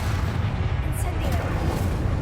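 A fire spell cast in the video game Hogwarts Legacy, a steady roaring, booming rush of flame that holds loud and dense from start to finish, with a low rumbling body.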